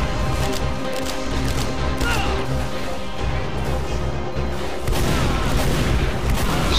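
Scattergun blasts in Team Fortress 2, a run of loud, punchy shots and impacts packed into a chaotic firefight mix, with a harder burst of shots in the second half.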